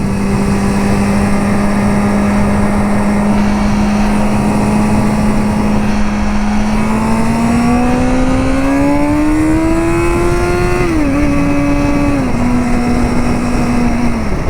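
Kawasaki ZX6R sports motorcycle riding on a highway, its engine droning loud and close at a steady pitch, then climbing as it accelerates, briefly dropping at a gear change and holding high again, over constant wind roar.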